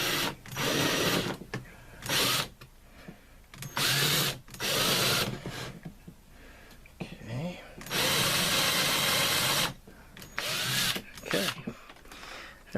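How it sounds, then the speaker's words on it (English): A hand-held power drill bores a pilot hole while building a Kydex forming press, with several loud whirring bursts of one to two seconds broken by pauses, and someone talking between them. "I'm gonna have to try to hold this drill and do everything all at once"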